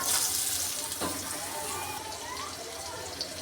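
Onions frying in hot oil in a wok, added after fish was fried, give a steady broadband sizzle throughout, close and moderately loud, with a brief clatter near the start.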